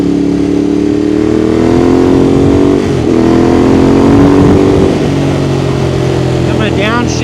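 A Ducati Monster 821 motorcycle engine downshifts through a quickshifter, its steady loud mid-pitched drone dipping and shifting pitch around the gear changes, with a voice talking over the engine throughout.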